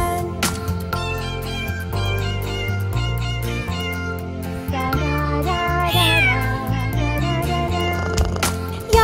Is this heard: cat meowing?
yes